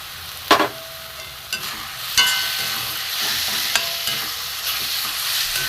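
Melon seeds dry-roasted and stirred in a pan for motichur laddu, repeated sharp scraping strokes of the spoon with a light rattle of seeds, close and fairly loud.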